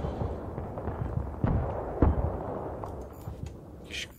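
Gunfire in the video game Battlefield 3, a string of sharp shots and bursts with a couple of louder blasts, moderately loud over a busy background of battle noise.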